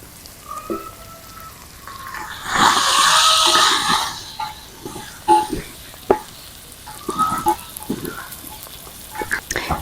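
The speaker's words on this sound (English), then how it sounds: "Add in your carrots there and mix properly, then go in with your tomatoes." Beef, carrots and tomatoes frying in a village kitchen, a loud hissing sizzle swelling as vegetables go in, then stirring scrapes and clunks against the pan, close.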